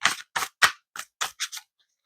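A deck of cards is shuffled in a quick run of about seven crisp riffle bursts, close and fairly loud, followed by a moment of quiet.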